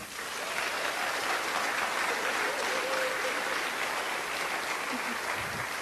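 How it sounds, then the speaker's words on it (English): At a Pecha Kucha Night event, a crowd gives the volunteer organizing committee a steady, even wash of applause lasting nearly six seconds at moderate distance. "Please give them a huge round of applause."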